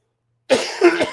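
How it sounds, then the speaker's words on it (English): A single loud, harsh cough very close to the microphone, breaking into a couple of rough bursts after silence. "I should not cough that loud in your ear."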